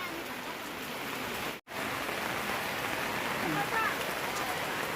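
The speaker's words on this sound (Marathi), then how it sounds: "मार्केट फिरत नाही आहे कारण पाऊस भयंकर आहे" Heavy monsoon rain pouring steadily over a Sunday market in Chiplun, Konkan, a dense continuous hiss with a brief cut in the middle.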